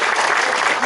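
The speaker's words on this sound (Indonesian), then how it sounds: "Tepuk tangan untuk Pak Tia" A crowd at a village gathering with the regent of Wonogiri in Desa Kepatihan claps steadily and densely, loud and close, filling the whole moment without a break.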